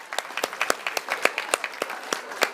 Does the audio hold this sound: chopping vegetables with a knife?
no